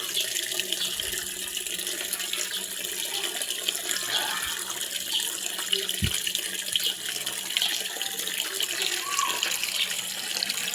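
Water runs steadily from above down into a drain, a continuous close rushing and splashing wash that holds evenly throughout with no talking.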